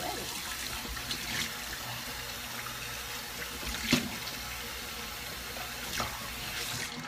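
A cleaned fish is rinsed under a running kitchen tap, producing a steady close hiss of flowing water with irregular splashes as it is washed.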